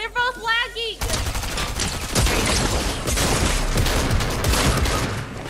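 Shotgun fire in the Fortnite video game, rapid loud bursts of gunfire and clattering after a short musical game tone at the start, with players talking over it.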